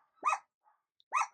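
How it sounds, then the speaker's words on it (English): Two sharp indoor dog barks about a second apart, close and fairly loud, with near silence between them. "I don't know what they could be barking at."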